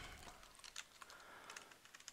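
Quiet keystrokes on a computer keyboard come in short bursts while someone types a web address and logs in to a site admin page.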